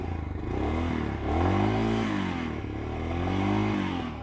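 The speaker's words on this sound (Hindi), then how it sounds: "पहले इसका एग्जॉस्ट नोट सुनते हैं" A 2023 Royal Enfield Himalayan motorcycle blips its throttle, the exhaust note rising and falling in several revs over a steady thumping idle, close and loud with no talking.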